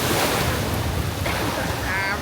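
Surf washing onto a beach in Yucatán, Mexico, a steady, loud broadband roar of waves close by, with faint bird calls mixed into the wash and no talking.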